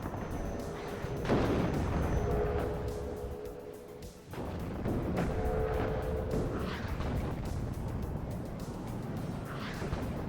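Artillery and gunfire from units in the WARNO real-time strategy game, a dense, continuous roar of booming shots and rumbling explosions that sustains loudly throughout, with a brief dip midway.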